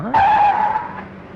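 A car pulls up and skids to a stop with a sharp rising tire screech that holds for about a second before fading, loud and close, with no voices.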